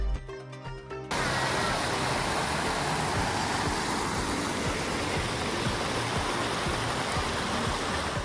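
A small river stream flows in front of a minicamp cabin at a Ciwidey ecopark, its steady broadband rush filling the scene after a brief opening of quieter ambience, close and constant with no talk.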